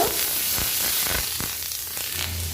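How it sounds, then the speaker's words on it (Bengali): Green chili, ginger paste and ground radhuni spice sauté in a pan for a vegetarian dish, producing a close, steady hiss and sizzle with a few scraping stirs, loud and continuous. "কাঁচা লঙ্কা দিয়ে দিব আদা বাটা দিয়ে দিব বেটে রাখা রাঁধুনিটা দিয়ে দিব ভালো করে কষিয়ে নিব"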